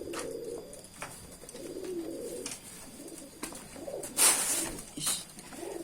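A pigeon coos close by, several soft throaty coos in a loose rhythm with a couple of brighter flutters or calls near the end, no speech.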